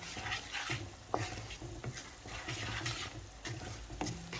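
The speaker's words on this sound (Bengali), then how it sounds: "এখন মশলাটারে ভালোভাবে মিক্স করে নেবো পেঁয়াজের সাথে" Ground spices and onions stirred together in a sizzling pan for a Bengali fish curry, with a steady frying hiss and repeated scraping strokes of a spatula, close and fairly loud, no voices.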